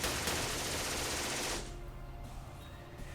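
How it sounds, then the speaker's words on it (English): Rapid, dense gunfire in The Troop, a strategy video game, roars loud and continuous for about a second and a half, then cuts off and leaves only a low, quiet hum. "What are you shooting my people for,"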